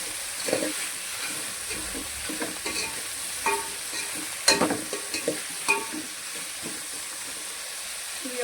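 Vegetables for sambar stirred in a cooking pot, with soft scraping and clinking strokes over a steady low sizzle and hiss of steam, a few sharper knocks standing out midway.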